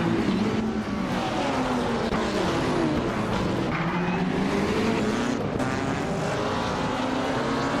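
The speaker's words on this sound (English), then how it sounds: "the race is kicking off at Oran Park, and Celestial Inari is on pole, driving a 2016 BMW M6 GTLM" Race cars, among them a 2016 BMW M6 GTLM, roar around Oran Park in a loud continuous engine drone whose pitch rises and falls as the cars shift and pass, with no voices.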